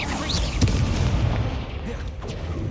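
Booming spell impacts and crackling fire bursts from the Incendio fire spell during combat in Hogwarts Legacy on Xbox Series S, dense low rumbles with a couple of sharp hits, under faint voices.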